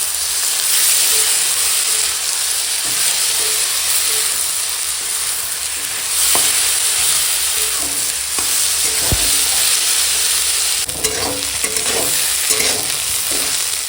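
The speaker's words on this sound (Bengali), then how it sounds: "এখন এই পেঁয়াজ বাটার সঙ্গে ভাজবো" Onion paste frying in a pan, a steady loud sizzle and hiss throughout, with occasional scraping and stirring knocks from a spatula.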